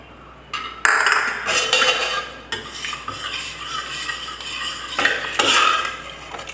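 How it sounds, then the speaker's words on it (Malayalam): Curry leaves dropped into a pan of quick homemade curry and stirred, giving a sustained scraping, clinking stir of a utensil against the pan with a light sizzle, close and fairly loud, no talking. "നമ്മൾ ഈ കരിവേപ്പില ഇതിലേക്ക് ഇടുകയാണ്."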